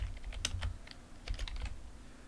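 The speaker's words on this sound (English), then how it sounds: "type in sudo -i" Keys clatter on a computer keyboard as a command is typed in an Ubuntu Linux terminal, a quick uneven burst of close, light clicks with a short pause midway and no voices.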